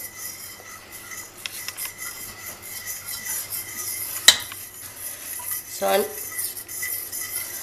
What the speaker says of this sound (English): I'm just going to stir that a little bit more here so that hopefully it will help it cool off